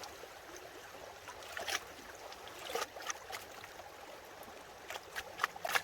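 Gravel being washed in a gold pan makes faint, quiet water swishing and light trickling, broken by soft irregular splashes and small gritty clicks, with no voices.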